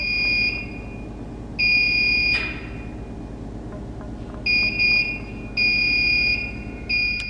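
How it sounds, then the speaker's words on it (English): Three electronic devices in a bathroom give shrill beeps, some short and some held longer, in an irregular pattern over a low steady background hum, with a sharp knock partway through. "all three devices started beeping when they were placed in the bathroom area"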